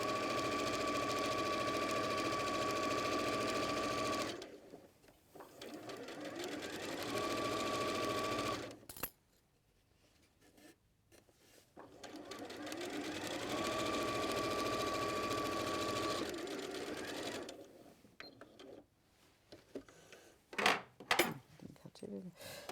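A domestic sewing machine runs in long steady bursts while stitching the front panel of a fully lined bag to its back, with pauses between runs and handling clatter near the end.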